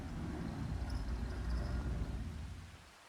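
Rain falling on a muddy farm, a dense steady rushing hiss with low rumbling underneath, fading somewhat toward the end, with no talk.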